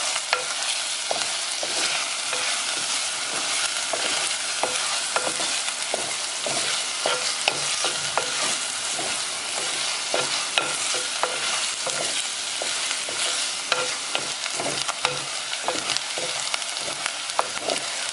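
Onions with garlic and green chillies sauté in a pan for a Kerala-style mutton curry, giving a steady close sizzle with frequent scraping stir clicks throughout, no voices.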